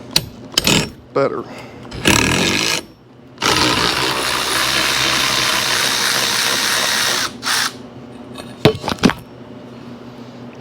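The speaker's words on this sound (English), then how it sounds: "if you don't have one of these battery-powered ratchet, what are you doing?" A battery-powered ratchet runs in loud sustained bursts while fitting a seat bracket on a CJ5 Jeep, with someone speaking briefly between runs.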